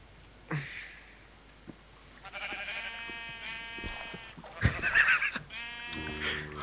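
Sheep in the Minecraft video game bleat several times in wavering calls of moderate loudness, with a few soft thumps between them.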